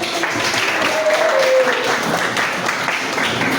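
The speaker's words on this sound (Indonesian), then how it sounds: "Oke, tepuk tangan." A school class claps together on the teacher's cue in a classroom, a short, fairly close burst of mixed hand clapping with a faint squeak partway through.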